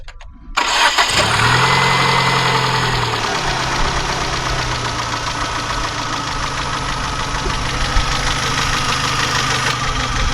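A car engine cranks briefly and catches, then settles into a steady, loud idle heard close up with a faint ticking knock throughout.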